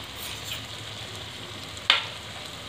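Fried vegetables tipped into sizzling masala in a kadai for dhaba-style kadai paneer, a continuous loud frying hiss with a sharp clatter and flare of sizzle near the end.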